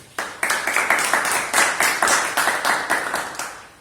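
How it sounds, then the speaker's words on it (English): Applause for the role players at a Toastmasters club meeting, a room of people clapping in a clear rhythmic pattern of distinct, close claps that holds steady for a few seconds. "a huge round of applause for all the role players."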